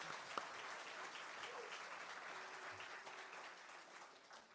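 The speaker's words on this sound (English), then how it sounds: "clap it up" Applause from a church congregation supporting a speaker at a service, a faint, distant, steady wash of clapping throughout with a brief sharp knock near the start.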